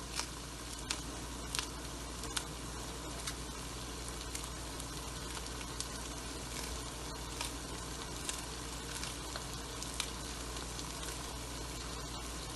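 Qeema kachnaar, minced meat cooked with kachnar buds, sizzles steadily in the pan as green chillies go in, with a constant crackling hiss and occasional sharp pops throughout.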